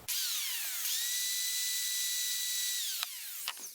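A corded 7.5 amp Milwaukee hammer drill, powered by a portable power station, whines loudly, spinning up, holding a steady high pitch for a few seconds, then winding down as it stops.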